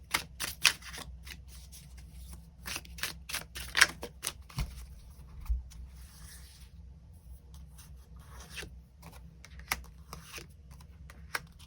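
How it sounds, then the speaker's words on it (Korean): Tarot cards being shuffled and drawn, a string of quick, crisp riffles and flicks at close range, irregular taps and slaps scattered over a low hum. "추가 카드 뽑아보도록 하겠습니다"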